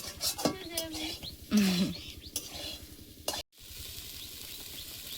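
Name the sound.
fish frying in oil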